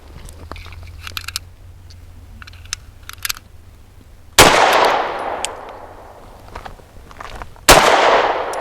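Sig P365 Fuse pistol firing Winchester Silver Tip 115 grain rounds on a range, two loud sharp shots several seconds apart, each with a long decaying echo, with faint distant handling clicks before.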